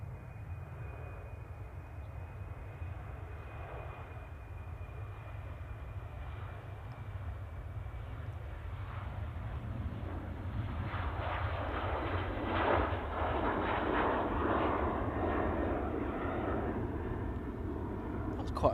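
Embraer E190 jet taking off from Manchester Airport toward Lisbon, its engine rumble heard from a distance and swelling moderately partway through, with a faint whine above a low steady drone.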